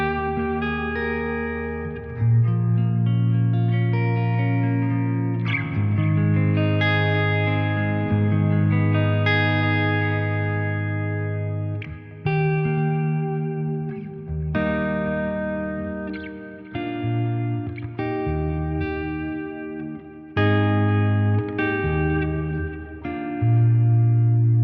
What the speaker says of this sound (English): So I'm going to use my own reverb at this point, just because I enjoy dialing in different reverb and delay settings.